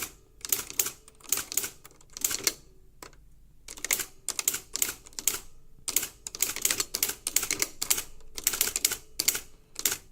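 A Panasonic KX-R520 electronic typewriter types in quick clustered bursts of crisp keystrikes and printing clacks, with short pauses between words, close and clear with no talking.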